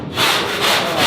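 A big scraper drags across a narrowboat hull in close, loud, harsh rasping strokes, about three in quick succession.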